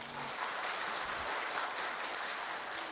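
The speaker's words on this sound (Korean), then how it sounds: "지금까지 수고한 패스파인더 대원에게 큰 박수를 보내주세요" Applause at a Pathfinder group meeting after a CPR demonstration, a steady dense wash of many hands clapping together, moderately loud and continuous throughout with no voices.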